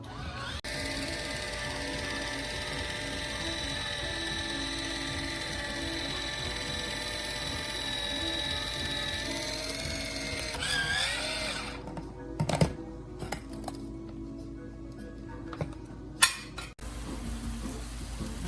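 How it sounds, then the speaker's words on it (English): A battery-operated can opener's small electric motor whirs steadily for about ten seconds, then cuts out, followed by clicks and scattered clattering handling sounds. "I'm gonna use my battery operated can opener"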